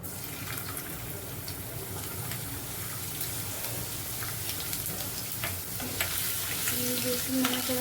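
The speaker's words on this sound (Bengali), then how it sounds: "এরপর আদা রসুন কুচি দিয়ে দেবো" Dried chillies with chopped ginger and garlic frying in oil for a chilli chicken dish, a dense continuous sizzle with crackling pops and light stirring, steady and fairly loud throughout.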